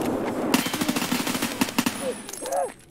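Rapid gunfire in Escape From Tarkov with a TOZ shotgun, a burst of sharp repeated reports close together over about a second and a half, followed by a brief mechanical clatter and faint vocal sounds.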